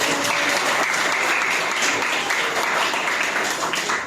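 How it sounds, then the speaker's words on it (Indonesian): A classroom bursts into steady applause, many hands clapping at once in a dense, even roar that holds loud throughout the clip with no talking over it. "Aplaus dulu dong"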